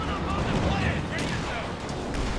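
Distant, muffled gunfire and artillery rumble from a Company of Heroes 2 World War II battle, a steady dense bed of combat noise under a voice talking.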